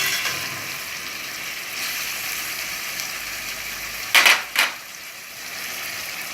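Saltfish and butter beans being stirred gently in a pot on the stove: a steady soft sizzle throughout, with two brief scraping clinks of the spoon near the end.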